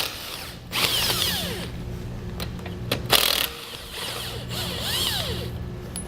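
A power tool with a 15 mm socket removes tow hook bolts from a 2006 Ford F-250, whirring in several short bursts close by, with a brief ratcheting clatter between runs.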